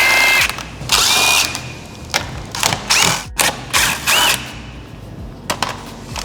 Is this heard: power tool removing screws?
yes